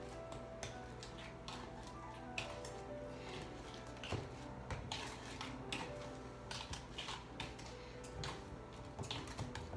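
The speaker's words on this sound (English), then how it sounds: "this is where we use our potato masher" Dark, ripe bananas are mashed in a bowl with a potato masher: quiet, irregular repeated taps and soft squishing strokes, close by.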